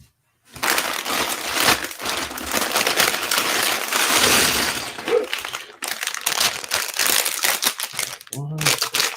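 Plastic bags from a LEGO Infinity Gauntlet set crinkle and rustle loudly close up, with continuous handling broken by a couple of brief pauses, and a voice speaks briefly near the end.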